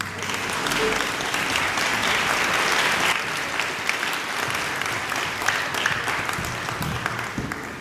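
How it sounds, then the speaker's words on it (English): An orchestra concert audience claps steadily, a dense wash of applause that swells early and then continues at a slightly lower level, with faint voices underneath. "If we can give Mr. Keenan a round of applause."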